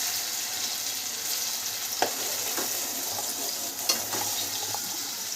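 Onion frying in a hot pan makes a steady, moderate sizzle with a few faint clicks of a utensil against the pan, and no voices.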